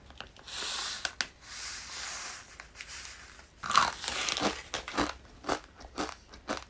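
Dry Vietnamese Hao Hao instant ramen noodles bitten and chewed raw, giving a run of close, sharp crunches and crackles, with a hissy pause in the middle before a fresh burst of rhythmic crunching.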